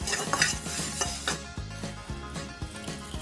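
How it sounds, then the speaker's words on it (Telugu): Fenugreek, coriander seeds, moong dal and mustard seeds rattle and scrape in a hot pan over low heat as a spoon stirs them in repeated strokes, with a faint crackle between. "మెంతులు ధనియాలు పెసరపప్పు ఆవాలు వేసుకొని సన్న సెగ మీద కలర్ మారే వరకు వేయించుకోవాలి"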